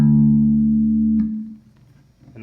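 A low bass note through a Fender Rumble 15 bass amp with the mids turned all the way down rings out loud and then fades, with a scooped, hollow tone, followed by faint string noise and near silence.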